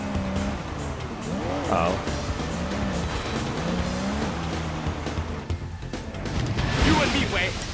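Car engine running with tire squeal in the open-world game Sleeping Dogs, a steady drive with brief screeches, while a voice speaks over it.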